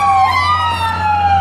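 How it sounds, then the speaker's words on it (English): An ambulance siren in the city wails loud and close, its tone sweeping up then sliding slowly down as the vehicle passes, with a low steady hum of traffic underneath. "Y'all can hear the ambulance in the back."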